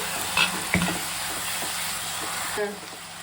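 Tomatoes frying in oil with salt for tomato rasam give a steady close sizzle, with a couple of short spoon scrapes early and a brief clink near the end.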